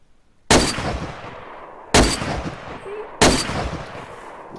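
Three loud, sharp video game gunshots spaced about a second and a half apart, each followed by a short ringing decay, with no talking.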